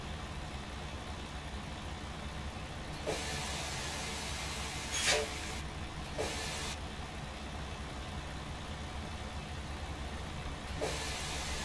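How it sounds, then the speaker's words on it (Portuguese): Air suspension on a Western Star truck in American Truck Simulator lifts with several sharp pneumatic hisses over a low, steady idling engine drone. "Deixa eu levantar um pouquinho dessa suspensão."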